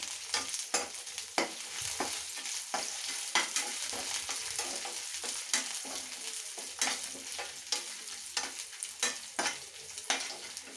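Dried red chillies fry with curry leaves in hot oil, sizzling steadily with repeated scraping stirs at an irregular rhythm, close and moderately quiet, with no voices.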